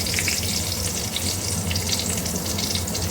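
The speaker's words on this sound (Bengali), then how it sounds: "তেল আমার গরম হয়ে গেছে ওই তেলেই আমি রান্না করব দিয়ে দিচ্ছি তেজপাতা ফোড়ানো" Bay leaves dropped into hot oil already used for frying potatoes, crackling and sizzling steadily in the pan with bright spattering pops, close and continuous without talk.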